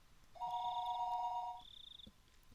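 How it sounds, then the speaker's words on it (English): A telephone rings once with a clear electronic double-tone trill, then a shorter higher tone follows, faint against quiet background hiss. "the phone began to ring again."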